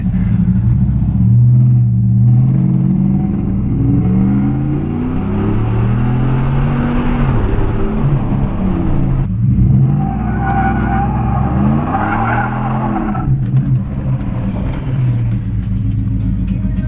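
Ram trucks, one with a custom tune and one with a canned tune, racing: loud, continuous engine roar with shifting pitch sweeps as they accelerate through, dominating the whole stretch without talk.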